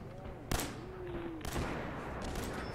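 Gunfire from Gunners enemies in the Fallout 4 video game: two sharp, loud shots about a second apart followed by a dense crackle of rapid fire under a sustained whine.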